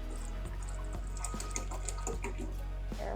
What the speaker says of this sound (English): So I'm getting a little more distilled water to get to that fill line.